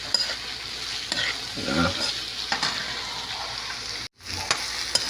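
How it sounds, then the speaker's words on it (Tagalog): Onion and garlic sizzle and fry in a pan while a spoon stirs and scrapes steadily, with a short break in the sound near the end. A voice speaks briefly over the cooking. "Luto na yung ating sibuyas, bawang."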